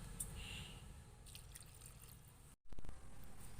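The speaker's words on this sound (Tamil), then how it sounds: "இப்போ 1/2 கிளாஸ் தண்ணி நான் ஊற்றிக்கிறேன்." Half a glass of water is poured into lentils in a pressure cooker, a faint, soft trickle and splash of liquid that breaks briefly before continuing.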